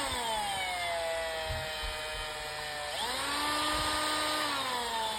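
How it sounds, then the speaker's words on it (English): A power drill lapping engine valves on a cylinder head whines steadily at close range, its pitch dropping and then rising again midway, running continuously without speech. "I'm using a drill because the hand would have just took way too long."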